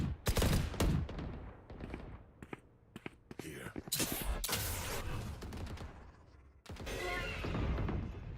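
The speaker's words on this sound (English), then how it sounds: "Good nade there from Waylay." Gunfire from a competitive video game match, with a grenade going off among rapid bursts, sharp cracks and sustained volleys punctuating the action while players and a commentator talk throughout.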